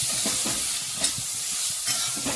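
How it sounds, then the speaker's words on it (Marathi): A spoon stirs rava upma mixture in a pan, soft scraping strokes repeating at an uneven pace over a faint sizzle, close and quiet. "आता हे मिक्स करायचं"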